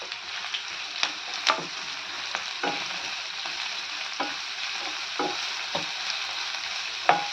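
Carrots and a few beans sauté in a pan with onion, a steady close sizzle broken by repeated scraping clicks of a spoon stirring at irregular intervals, with no one speaking.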